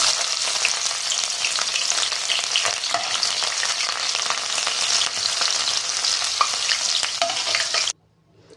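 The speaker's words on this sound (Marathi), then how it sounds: "तर आता हिरवी मिरची आहे ती पण मी तळून घेते" Green chilies fry in hot oil with a loud, continuous crackling sizzle that holds steady for about eight seconds before cutting off abruptly.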